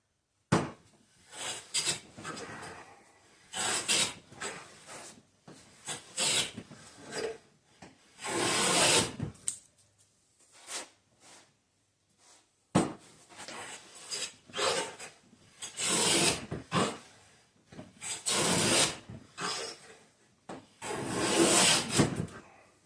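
A fine saw works fret slots into acoustic guitar wood in steady rasping strokes, loud close bursts in runs with brief pauses between groups.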